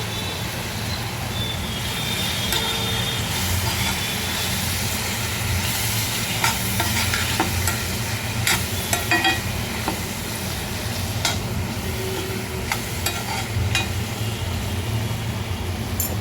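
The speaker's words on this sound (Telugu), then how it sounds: "ఆనియన్స్ కొంచెం దూరగా వేగిన తర్వాత పసుపు వేసి కొంచెం కలపాలండి" Onions frying with turmeric in a pan for a capsicum masala curry, stirred now and then; a steady sizzle continues throughout, with scattered scraping clicks from the spoon and no talking.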